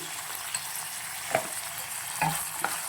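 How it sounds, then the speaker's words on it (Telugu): Green peas and onions fry in a pan, a steady close sizzle broken by a few sharp scraping knocks of a spoon stirring, with no voices present. "వేసి కొంచెం పచ్చివాసన పోయేంత వరకు ఫ్రై చేసుకోండి"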